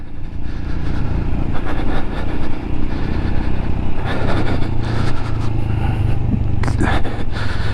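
A Royal Enfield Scram 411 motorcycle ridden off-road on a course. Its engine drones loud and steady throughout, with rougher revving bursts around the middle and near the end.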